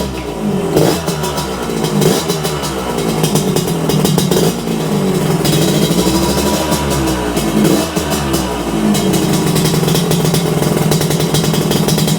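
A Yamaha RX125 motorcycle being fitted with a power upgrade starts up, its two-stroke engine revving and settling into a loud, close, uneven burbling idle with a few throttle blips, no voices.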